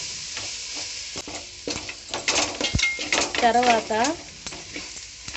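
Fish curry ingredients stirred and mixed in a pan, village style, with scraping and a light sizzle throughout while someone talks over it.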